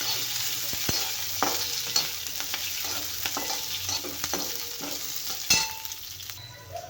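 Spicy chutney ingredients roasting in a pan give a steady close sizzle, with intermittent scraping and tapping of a spoon stirring them and a few sharper knocks against the metal.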